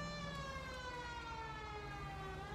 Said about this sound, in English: so siren and careful driving